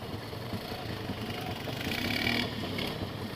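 RZR side-by-side idling at night near a creek, a low rumbling engine with slow, uneven exhaust burbles, steady and moderately close with faint background noise.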